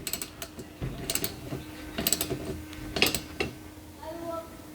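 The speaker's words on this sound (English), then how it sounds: "I use this to tighten the right wiper arm." A ratchet tightens the wiper arm nut on a 2014–2018 Subaru Forester, giving short bursts of quick metallic clicks spaced about a second apart, close and fairly quiet.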